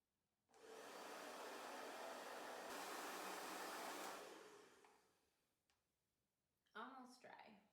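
A hair dryer with a diffuser drying curly hair roars steadily and loudly for several seconds, then winds down and stops; brief clicks follow and a voice talks at the very end.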